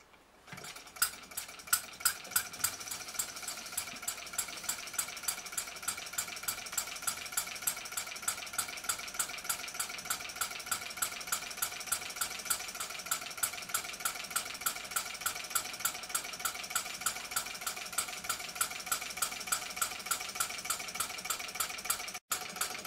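A 1988-built model hot bulb engine with solid fuel injection runs steadily, its quick, even ticking and rattling beats repeating at a constant pace throughout, with no voices.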